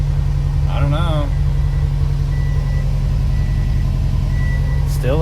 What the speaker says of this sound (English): I'm gonna let it idle for a minute